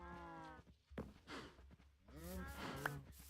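Cows in the Minecraft video game moo a few times, short low lows overlapping with a brief rustle or step in between, fairly quiet and close with no talk.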